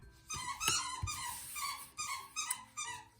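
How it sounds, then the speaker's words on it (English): A puppy playing with a squeaker toy, giving a run of sharp, close squeaks and whiny squeals in irregular bursts against a quiet room. "She finally found the squeaker in Mad Kitty."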